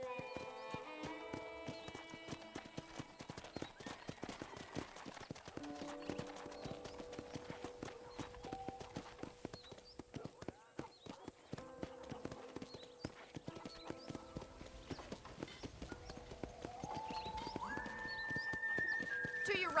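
Horse hooves clip-clop in a rapid, even rhythm in the Red Dead Redemption video game, with a whinny and quiet tonal game music underneath, all at a fairly low level.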